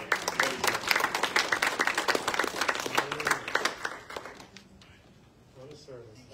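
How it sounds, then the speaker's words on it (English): A church revival congregation claps for their pastor, a dense burst of hand claps that thins out and fades over several seconds, with voices mixed in. "let's give our pastor a hand clap as he comes"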